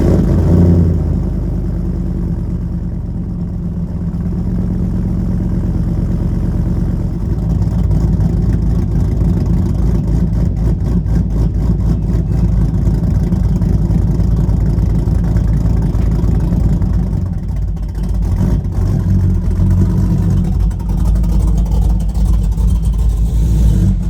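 A loud, raw 2024 Ford F-150 engine rumbles and revs repeatedly with a harsh exhaust roar from a homemade muffler delete, idling between throttle blips, close by for a long stretch.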